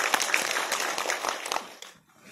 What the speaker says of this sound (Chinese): 大家掌声欢迎